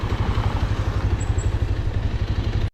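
Motorcycle engine idling while stopped on a road trip from Ranuja to Jaisalmer, a loud, close, steady low chugging pulse throughout with a faint high chirp partway, then cutting off sharply at the end.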